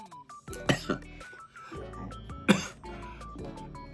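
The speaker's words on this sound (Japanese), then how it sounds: "なんか咳込んじゃいましたけれどもね" Two sharp, close coughs with throat clearing between them, separated by brief pauses over a faint tonal background.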